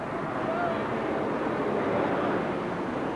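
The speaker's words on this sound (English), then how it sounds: "All right, start the wind." A wind machine blows on a film set during location shooting, a steady broad roaring rush that holds level and dense throughout without a break.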